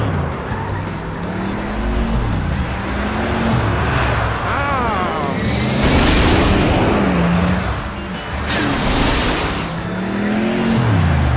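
Cartoon race cars in the Car City World app game, engine noise rising and falling in repeated waves with tire squeals and skids, continuous and fairly loud over a busy game soundtrack.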